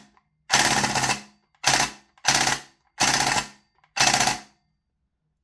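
A VFC M249 gas blowback airsoft gun fires five loud full-auto bursts, each a rapid mechanical clatter lasting around half a second to a second, with short silent gaps between them.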